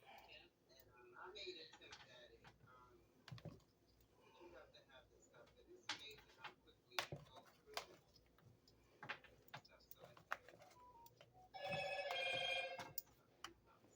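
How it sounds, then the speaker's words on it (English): A phone notification chime rings out clearly for about a second amid kitchen prep of summer squash, following scattered knocks and clicks with a voice speaking around it. "always a notification when I'm filming, right?"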